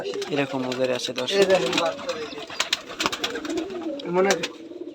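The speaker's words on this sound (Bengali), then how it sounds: "এই যে দর্শক এক পিস কবুতর সেই সুন্দর" Soft, throaty cooing from pigeons at a Rajshahi farm runs faintly under continuous close talk from a man. Scattered clicks and rustles mark the handling around the birds.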